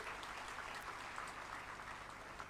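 Audience at a Suzuki plant event applauding to welcome Suzuki Motor Corporation executives, a faint, steady, distant patter of many hands clapping that holds evenly throughout with no talk over it.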